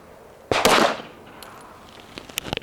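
A single sharp pistol shot at a shooting range, a loud close crack with a brief echoing tail, followed by a few faint metallic clicks.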